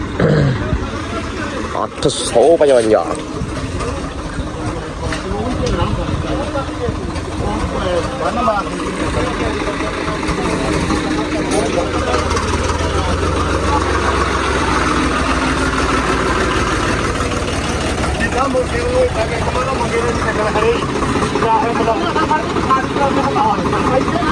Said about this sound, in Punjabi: ਹੁਣ ਚੱਲਿਆ ਜੇ ਟਰੈਕਟਰ ਚੱਲਿਆ